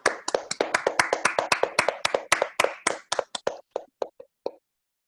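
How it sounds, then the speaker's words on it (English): Audience members at a Toastmasters club meeting clap for the toastmaster, a small group's sharp, distinct claps in a quick burst that thins out and stops after about four seconds. "Please give a big round of applause to Toastmaster Akshay."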